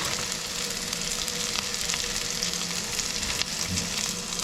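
Beef for Mongolian beef fries in a pan with a dense, even sizzle that holds steady at moderate level, with a few faint scrapes and no talking.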